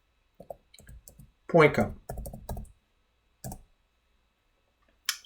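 Typing on a computer keyboard: a few scattered clicks and key taps near the start and end, with a voice speaking French over the middle.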